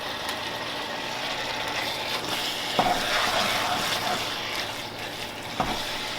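Homemade three-meat, three-bean chili being stirred in a pot, giving soft continuous scraping and gentle sizzling with a couple of sharper knocks of the spoon against the pot, fairly quiet and without talking.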